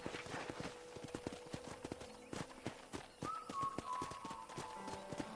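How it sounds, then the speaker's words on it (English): Horse hooves clip-clop steadily in the Red Dead Redemption video game, a close, regular trot of sharp knocks over a soft ambient bed, with a thin whistle-like tone entering midway. "I picked out a fine horse for you."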